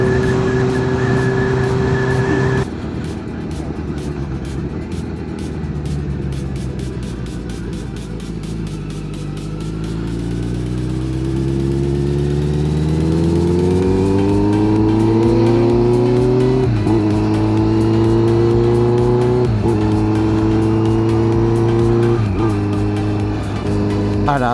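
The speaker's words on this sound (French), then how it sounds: "Donc la moto, elle gueule pour rien." A Zontes 125 motorcycle engine drones close by, drops back, then climbs in pitch through repeated rising revs. Each rev breaks off and builds again, with wind noise layered over it on a ride out.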